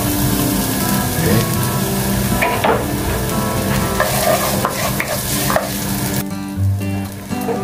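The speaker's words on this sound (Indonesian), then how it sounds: "kita saute kembali ya" Onion and ginger sauté with beef in a hot pan for a beef paprika dish, a loud, steady sizzle with scraping stirs and occasional utensil knocks throughout, no voices.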